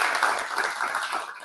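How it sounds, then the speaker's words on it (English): Audience clapping for the presenters at a Walk21 Ireland session, steady and fairly dense for a second and a half, with faint chatter mixed in. "A big round of applause for all our presenters."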